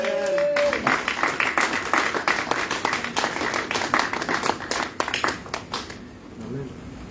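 A church congregation applauding in praise, a dense run of many hands clapping steadily for several seconds before thinning out, with a voice speaking over the applause.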